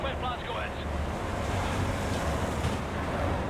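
Open-water waves wash steadily beside a boat in the video game Wolfenstein: The New Order, a constant rushing surf mixed with gusting wind and a low engine rumble, continuous and fairly loud throughout.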